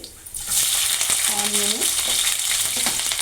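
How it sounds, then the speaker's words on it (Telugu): Chopped onion frying with chana dal, cumin and mustard seeds, a loud close sizzle that swells after a quiet start, with a brief scrape of a spoon in the pan partway through. "ఆనియన్ మంచిగా ఫ్రై చేసుకోవాలి."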